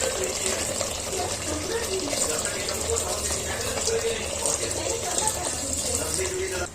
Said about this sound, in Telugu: ఇప్పుడు 2 గ్లాస్ వాటర్ పోసుకోవాలి ఫ్రెండ్స్